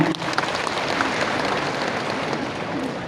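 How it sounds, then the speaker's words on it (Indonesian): Audience clapping at a financial report session of a provincial conference in Central Java, a dense, even patter of many hands held at a steady level for a few seconds. "Tepuk tangan."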